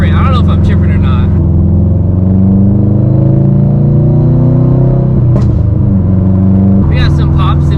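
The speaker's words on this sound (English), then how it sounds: "We got some pops in between shifts" A Subaru WRX STI accelerating hard through the gears, its loud engine drone close and constant, with brief crackling exhaust pops breaking through between shifts.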